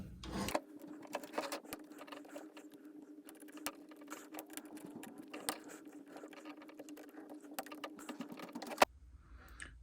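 Small screws are backed out of a fishing reel's housing, giving faint close clicks, ticks and light metallic scraping in an irregular pattern over a constant low hum, ending in a sharper click.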